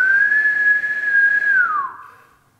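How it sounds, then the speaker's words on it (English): A single steady whistled tone held near and alone for about a second and a half, then sliding downward and fading out, made while testing a frequency-detection sequence. "even if I try to whistle with the correct frequency"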